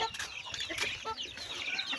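Ducks cluck and chatter in a busy mix of short calls, with faint background noise and no speech.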